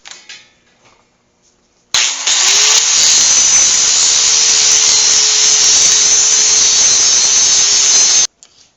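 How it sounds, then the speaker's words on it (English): A flap wheel grinds down a small metal tripod mount piece held in a vise, starting suddenly as a loud, steady, hissing whir that holds for about six seconds, then stops abruptly, with faint quiet sounds before it starts. "just put this back into the vise and just run the a flap wheel over"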